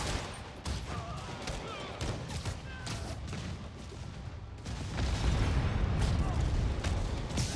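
Gunfire and booming blasts fill a chaotic combat scene in Marvel's Spider-Man Remastered, with sustained loud shooting, rumbling impacts and game voices speaking over the noise throughout.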